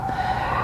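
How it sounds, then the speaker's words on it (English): A siren wails steadily in the distance over low city rumble, a single sustained tone holding through the short moment. "it is in the middle of the city, so you can hear the sirens going off"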